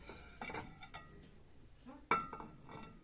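A dinner plate handled on a store shelf among other dishware, giving a few light ceramic clinks and knocks, with one sharper, louder clink near the end, close by and with no talk over it.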